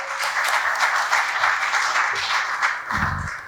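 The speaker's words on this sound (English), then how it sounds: "A round of applause for her." Steady audience applause fills the room at a panel discussion on transparency in Namibia, a dense continuous clapping that fades slightly at the end.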